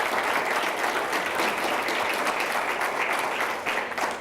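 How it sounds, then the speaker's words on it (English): Business audience giving a big round of applause for the Better Business Bureau, loud, dense, continuous clapping that holds steady before easing off slightly at the end. "How about a big round of applause for the Better Business Bureau?"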